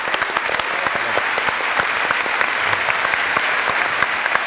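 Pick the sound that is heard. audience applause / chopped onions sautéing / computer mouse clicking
audience applause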